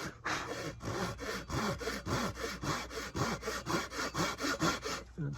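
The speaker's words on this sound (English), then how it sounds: "these Japanese saws are pull saws, so they only cut" A Japanese pull saw cuts a half lap in wood with steady, rhythmic strokes, roughly a dozen close rasping passes repeating evenly, loud and near with no talking.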